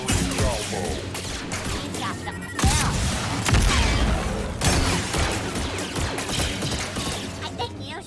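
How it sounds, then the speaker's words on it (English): A video game weapon fires a salvo: a rapid series of loud mechanical bursts and clattering impacts in several waves, dense and close, with voices briefly mixed in. "Firing salvo."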